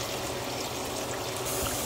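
A cup of water poured into chicken curry, a steady, soft rushing stream that continues without a break, heard alone.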